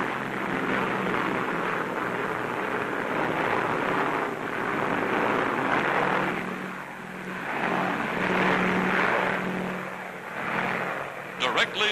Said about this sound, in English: Transports are escorted by squadrons of fast P-38s, American fighter planes.